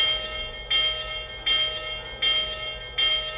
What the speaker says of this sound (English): So let's try the bell.